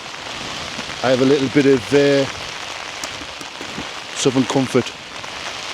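Rain patters steadily on a tent while camping in high winds in the mountains of the Lake District, a close, continuous hiss heard under someone talking in short bursts.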